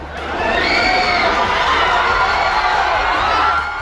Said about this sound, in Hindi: एयरपोर्ट के बाहर फैंस की भारी भीड़ जुटी हुई थी